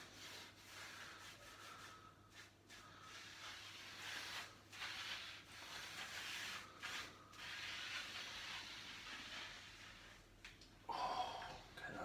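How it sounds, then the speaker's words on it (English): A sponge scrubs back and forth over a rough, unsanded wooden shelf, producing soft, close, rhythmic rasping strokes with brief pauses between passes, fairly quiet overall. "you can probably hear the sponge sort of catching on the rough bits that are on it now"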